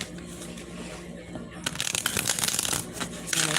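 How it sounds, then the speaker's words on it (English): Cards riffle and slap together in quick crisp bursts, close by, after a softer stretch of handling. "I'm going to finally shuffle up these cards."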